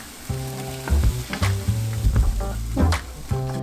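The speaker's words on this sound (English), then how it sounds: "we're just gonna add a few spoonfuls of this to the sauteing veggies." Vegetables sauté in a pan as spoonfuls of crushed tomatoes go in, a bright sizzle with repeated clattering spoon knocks and a humming tone underneath.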